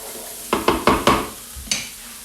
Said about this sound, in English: Just make sure you scrape the bottom of your pan and it won't burn with a nice wooden spoon